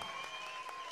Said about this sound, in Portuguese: E palmas pra eles, porque eles merecem